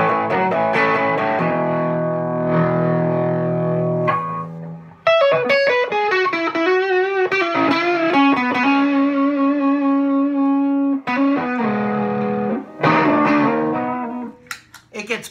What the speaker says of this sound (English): I primarily use this for some slide guitar distortion.